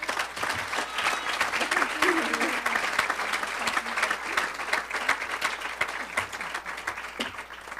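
Applause from the audience at a community awards breakfast, many hands clapping in a sustained, even roar, with a few sharper individual claps standing out and faint voices mixed in.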